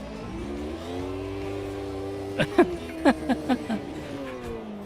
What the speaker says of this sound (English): very slowly applying the throttle, you get wheel spin all the way out of that hairpin